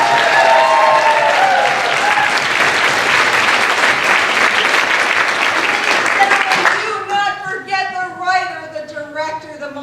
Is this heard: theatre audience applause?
yes